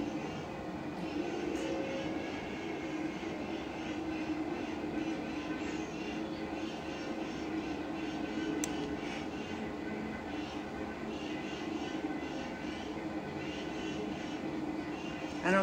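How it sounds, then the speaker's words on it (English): An airplane drones overhead while interstate traffic rumbles nearby, a faint, steady low roar that holds evenly from start to end with no speech. "Certainly you're hearing an airplane. And I was really close to the interstate. So you're hearing the interstate."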